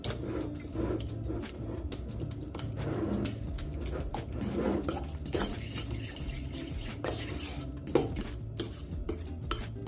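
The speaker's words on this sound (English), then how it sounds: "using a fork, I will just mash up the avocado, mix it with the yogurt" A fork mashes avocado and mixes it with yogurt in a bowl for a guacamole sauce, with continuous close scraping and clinking of metal against the dish.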